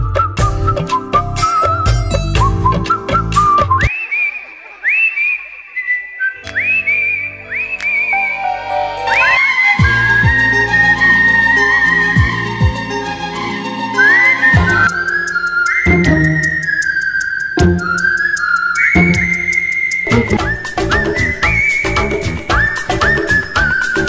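A man whistles a Bollywood song melody, clear and loud, with shifting sustained notes over musical accompaniment and no spoken words.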